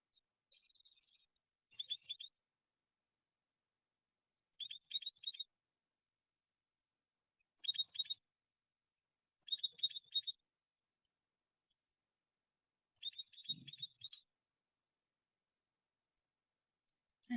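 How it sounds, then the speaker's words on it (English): A songbird sings short, high, twittering phrases in five separate bursts with quiet gaps between, clear and fairly close against near silence. "A songbird sings us back to remembrancing."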